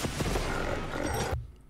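Gunlance Wyvernstake Cannon attack in Monster Hunter Wilds, a loud dense burst of blasts and crackling explosions lasting over a second before cutting off sharply.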